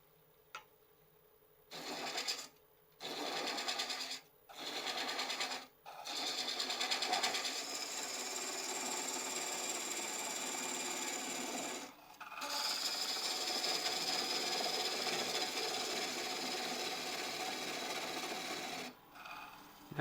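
Wood lathe turning a mortar blank while a gouge shears away excess wood under tailstock support, a continuous rough scraping drone with a few short stop-and-start cuts at first, then a long steady run.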